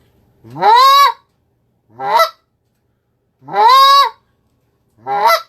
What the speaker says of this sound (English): The true deep moan where the reed's breaking over.